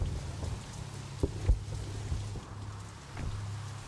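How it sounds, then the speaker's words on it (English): Rain in the Assetto Corsa racing game, a steady soft hiss with a low engine hum and a few heavier thumps at moderate volume. "Right now, got the rain on, and we'll see how that goes."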